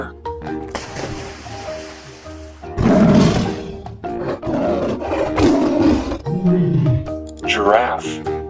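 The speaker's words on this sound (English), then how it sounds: "Tiger." A toy tiger plays a recorded roar several times over about eight seconds, loud and close, with other short toy animal sounds in between.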